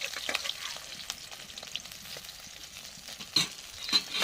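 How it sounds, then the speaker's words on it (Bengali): Pabda fish frying in oil makes a soft, continuous sizzle with occasional light scrapes and a couple of sharper spatula clicks near the end, fairly quiet and close. "বাকি মাছগুলো ভাজা হয়ে গেছে"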